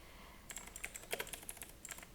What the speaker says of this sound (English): type in the text as well